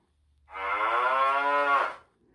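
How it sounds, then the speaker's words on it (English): A single cow moo, loud and close, swells for about a second and a half with a rich, drawn-out tone, heard alone with no talk over it. "Cow goes."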